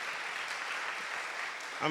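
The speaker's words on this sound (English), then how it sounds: "Please, could you give a round of applause for this brother here?" A crowd applauding with steady, dense clapping throughout, and a voice cuts in right at the end.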